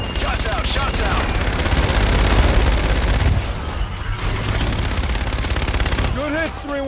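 Called-in fire strike in Call of Duty: Infinite Warfare: dense, continuous rapid gunfire and booming impacts roar loudly for about three seconds, then ease into rumbling aftermath while radio-style voices speak over the battle.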